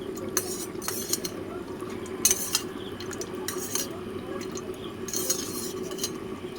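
Food colour being mixed into biryani ingredients in a bowl: a spoon scrapes and stirs, clinking sharply against the dish every second or so over a soft, wet, mushy churning.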